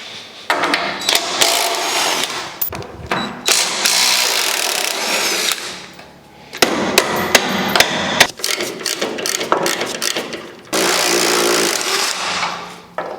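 Loud, rapid metallic hammering in several bursts as a leaf spring hanger is knocked off a 1950 Chevy, blows striking metal in quick succession with short pauses between them.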